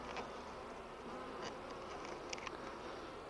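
Honey bees buzz steadily around an open Flow Hive during a midsummer inspection, a dense continuous hum with occasional louder passes of individual bees close by, and no talking over it.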